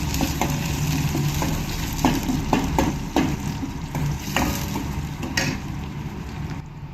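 Onion and green chillies fry in a pan with a constant, close sizzle. Spatula taps and scrapes knock against the pan at irregular moments throughout.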